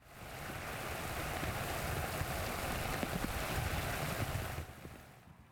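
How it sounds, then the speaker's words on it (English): Heavy rain from a strong rain band hitting outdoors, a loud, dense, continuous roar that swells in and holds steady for about four seconds before fading away near the end. "Our camera was rolling this morning when one of the first strong rain bands moved in."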